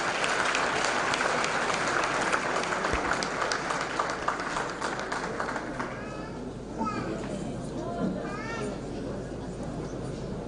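Applause from an audience at a veterinary medicine faculty event in Nigeria, a broad crowd clatter that fades partway through as voices and scattered chatter, including children's voices, take over.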